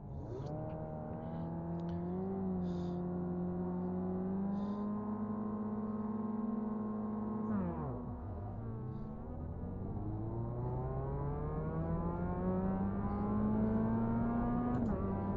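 Mazda MX-5 race cars at a race start in the iRacing simulator, steady engine drone with climbing and falling revs, a dip as gears shift, then a long rising pull while several engines run together.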